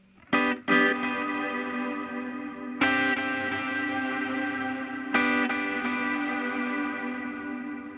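Three plucked electric guitar chords ring out through a delay whose repeats are fed through reverb, each trailing into smeared, reverberant echoes that wash together into a sustained ambient haze.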